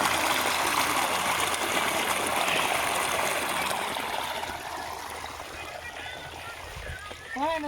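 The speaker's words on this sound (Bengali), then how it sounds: "এই যে এখানে দেখতে পাচ্ছেন পানি চলছে।" Irrigation water flowing steadily through a mango orchard, a continuous broadband rush that fades slightly toward the end, with faint bird chirps near the close.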